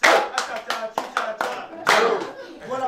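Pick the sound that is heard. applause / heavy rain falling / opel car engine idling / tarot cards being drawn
applause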